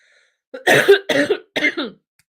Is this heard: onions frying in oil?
no